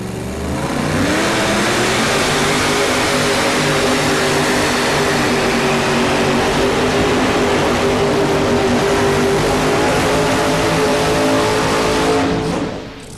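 Pulling tractor powered by 572 cubic inch Chevy engines roars loudly and steadily through a tractor pull championship run, a sustained heavy engine drone that holds for about twelve seconds before easing off at the end.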